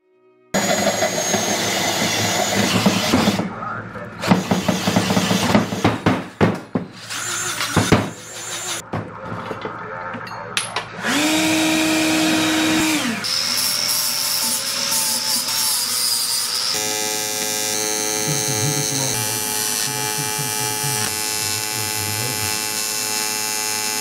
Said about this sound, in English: I think my best bet's just going to be ye old hole saw.